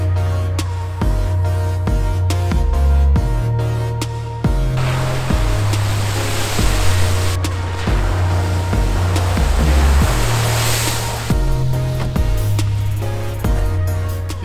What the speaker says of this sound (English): There's so much water sitting on the roof right now that it's just pouring down the side.